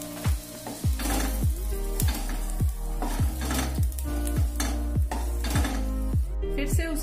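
Softened onions are scraped out of a kadhai onto a plate, with a metal spoon striking the pan in repeated ringing clangs over a steady sizzle, close and distinct.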